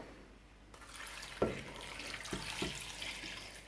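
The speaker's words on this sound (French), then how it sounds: "Je rajoute de l'eau." Water is poured into a pot while cooking, with a smoked chicken dish that will be left to boil; a soft running-water wash over faint background noise, with a few sharp clunks partway through.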